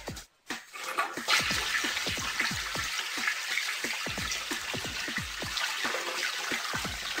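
Toilet flushing with a steady rush of water and rapid trickling clicks that continue for several seconds, close and fairly loud, with no talking.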